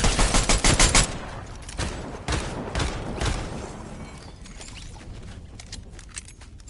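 Pistol fire in the video game Fortnite comes as a rapid string of loud close shots, then a few separate single shots, fading into quieter game noise.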